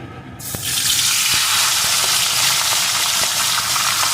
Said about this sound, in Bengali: মাথাটা এপিটোপিট করে লাল লাল করে ভেজে নেব